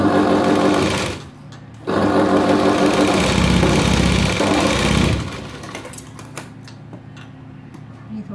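A sewing machine stitches a pleat on a princess-cut blouse, running loud and steady in two bursts split by a brief pause. It then drops to a softer hum with light clicks and handling sounds.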